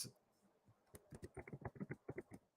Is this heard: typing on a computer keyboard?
yes